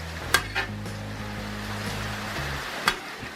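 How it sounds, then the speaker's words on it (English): Beef noodles stir-fry in a pan as they are tossed and broken up, giving a steady sizzle with a couple of sharp utensil clanks against the pan, close by and without talking. "Break those noodles up a little bit."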